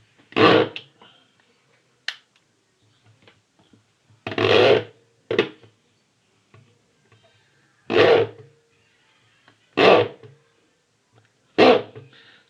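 A knife scores and marks a board to cut it, giving a series of short, sharp scraping strokes spaced a second or two apart, close and fairly loud against quiet.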